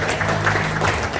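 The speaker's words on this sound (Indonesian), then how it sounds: "Tepuk tangan untuk Bapak Ibu dulu" Audience applause at a Mocash Sinergy Eco Racing award event in Surabaya, a steady wash of clapping from a crowd lasting about a second, even and fairly loud throughout.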